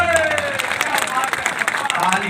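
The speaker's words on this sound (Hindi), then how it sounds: "तालियां और बड़ी कीजिए" A crowd applauds at a Hindi poetry gathering (kavi sammelan), with dense, steady clapping filling the whole stretch at close range and a voice faintly underneath.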